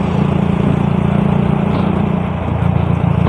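Motorcycle engine fitted with an aftermarket exhaust, idling steadily with a loud, low, continuous throb close by and no talking.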